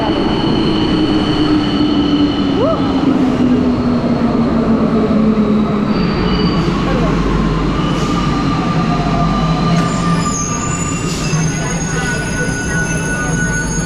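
A Santiago, Chile metro train rumbles in and slows, wheels squealing in long gliding pitches over a steady rail roar, loud and close, with brief hisses near the end.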